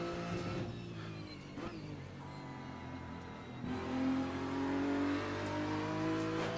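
A GT3 race car engine in a racing video game at the Nordschleife wails at high revs, rising and falling through gear changes, steady and fairly loud with no talking.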